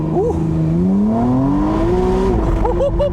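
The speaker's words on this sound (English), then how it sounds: "Let's see if we can try to get a 0 to 60 run in this vehicle." A McLaren Artura Spider hybrid supercar launches from a brake-torque start on a 0 to 60 run, its engine note climbing steadily and loudly through the rev range before a gear change near the end.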